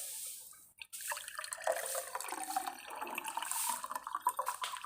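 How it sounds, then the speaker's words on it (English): Water draining away from flooded village rice fields in Vietnam in the early morning hours, a steady trickling and gurgling flow with scattered drips, fairly close and continuous. "That water's going down really well."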